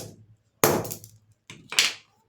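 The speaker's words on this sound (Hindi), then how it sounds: "और अब हम इसकी स्ट्रेंथ को चेक करते हैं हथौड़ा से।" Two hammer blows land on pens stuck together with Fevikwik glue, each a sharp close crack followed by a short rattling decay, with a brief lighter tap between them.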